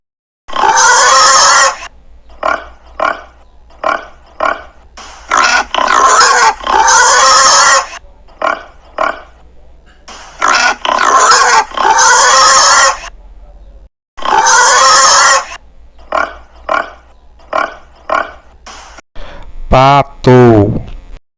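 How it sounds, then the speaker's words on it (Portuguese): Pig oinks and grunts on a farm, repeated short bursts in quick succession, loud and close, with a brief spoken word in another voice near the end. "porco"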